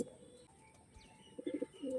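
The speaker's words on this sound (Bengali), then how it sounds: "হেভি কোয়ালিটির পায়রা দেখুন।" Tournament-flying pigeons in a loft give low, throaty coos, with a couple of bursts of rolling cooing in the second half, quiet and nearby, plus faint chirps in the background.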